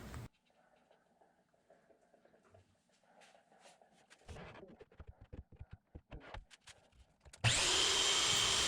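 Miter saw cutting through a manzanita wood post, a loud sustained whining burst arriving near the end after a stretch of quieter handling knocks and shop clatter.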